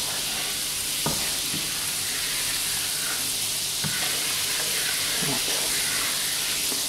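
A roux of flour with onion and garlic sizzles and fries in a pan, a steady hiss with a few sharp clinks of stirring against the pan.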